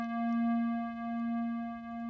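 A single steady synthesizer tone held without fading, rich in even harmonics, gently swelling and dipping in loudness as it sustains.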